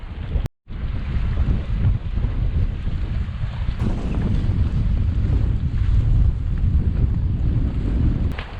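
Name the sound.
northerly wind on the west Clare coast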